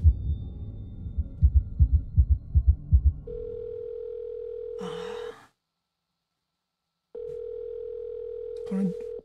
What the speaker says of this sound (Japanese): この電話の音が GTA 感。